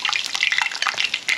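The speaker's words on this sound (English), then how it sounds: "It's just started to rain" Rain starting to fall outdoors beside a cooking setup with hot oil, scattered light pattering drops and crackling hisses in quick irregular bursts, close and fairly soft.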